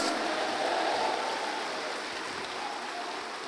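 A church congregation claps together in a dense, steady wash of applause that fades slightly toward the end, with no distinct voices.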